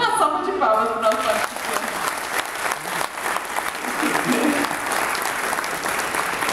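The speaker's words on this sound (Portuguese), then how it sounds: "Uma salva de palmas para o nosso" An audience bursts into sustained applause for a participant on a motivational show, starting just after a brief bit of music and holding a dense, loud clapping texture to the end.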